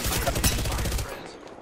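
Rapid automatic gunfire from the Apex Legends battle royale game, a dense loud burst of shots for about a second that then tails off.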